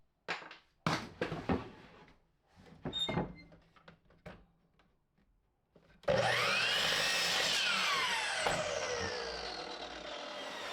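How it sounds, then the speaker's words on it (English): Light wooden knocks and handling of a 2x4 board come first, then a miter saw spins up loudly and cuts through it, its high whine holding steady to the end. "head to the miter saw real quick and cut one in half at 48 inches"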